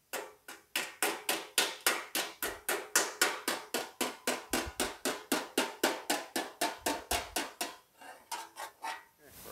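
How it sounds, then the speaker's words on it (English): A hammer glances off a sheet metal trunk floor panel in a fast, steady rhythm, dozens of bright metallic taps in a row before slowing at the end. "I'm just taking the hammer and just kind of glancing it off the metal"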